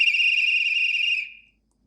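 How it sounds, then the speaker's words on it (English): Departure whistle effect from a Trix EuroDuplex HO/OO gauge model train: a single shrill, high-pitched tone held just over a second and then stopping, clear and alone. "And F8 is the departure whistle."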